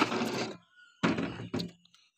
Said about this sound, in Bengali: কবুতরের ঢাকনাগুলো খুলে দিয়ে ওদেরকে বের করি